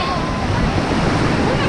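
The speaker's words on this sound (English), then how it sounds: "But I think that might be it for the ocean right now, for the Atlantic." Waves on the Atlantic Ocean wash onto a hot beach, a steady loud roar of surf mixed with wind buffeting the microphone, with no break across the short stretch.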